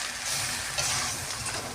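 Potato, bitter gourd and eggplant sauté with turmeric and salt in a hot pan, giving a steady, close, even sizzle with a soft crackling hiss that runs without pause and with no voices over it.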